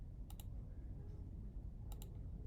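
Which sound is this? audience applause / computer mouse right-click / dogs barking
computer mouse right-click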